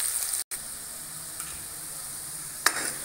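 Taro root (arbi) sizzling in oil in a pan, a steady close frying hiss with a brief stir clink near the end.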